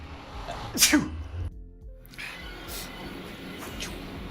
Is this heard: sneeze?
yes